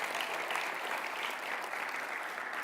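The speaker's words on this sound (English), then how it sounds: "let's give yourself a round of applause" An audience at a self-healing talk applauds steadily, a dense and even wash of clapping from many hands that holds at moderate level from start to finish, with no voices over it.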